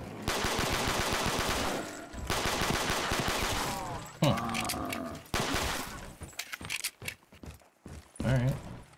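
Weapon fire in Black Ops III custom zombies, rapid bursts of game gunshots and loud in-game effects, dense and continuous before breaking into choppier sounds near the end.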